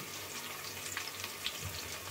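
Curry leaves frying in hot oil for a tempering in a village-style kitchen, a soft, steady close sizzle and crackle with small pops, alone and fairly quiet.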